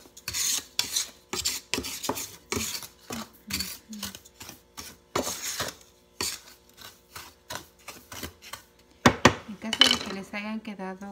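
Spoon stirring crushed Maria cookies with ground cinnamon and sugar in a bowl for a cheesecake base, giving rapid, repeated gritty scrapes against the bowl, close and uneven, with brief speech near the end.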